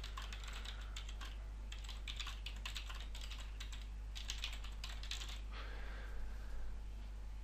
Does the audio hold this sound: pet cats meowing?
no